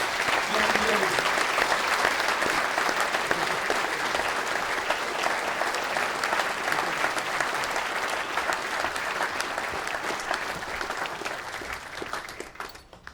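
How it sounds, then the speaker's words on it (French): Sustained applause from a crowd at a mayor's New Year address, loud and continuous, slowly fading toward the end. "on peut l'applaudir très fort"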